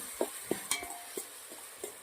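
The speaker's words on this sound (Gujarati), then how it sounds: "એ હલાવી દેવાનું છે લોટને" A spoon stirs flour batter for healthy Manchurian in a bowl, making about six soft, wet scraping strokes in a loose rhythm, close and fairly quiet, with no voices.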